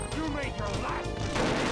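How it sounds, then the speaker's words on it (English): Rapid gunfire and smashing impacts from the video game Perfect Dark, dense and loud throughout, with game music or effects layered underneath and a player speaking over it. "Probably can't hear it because all the gunfire."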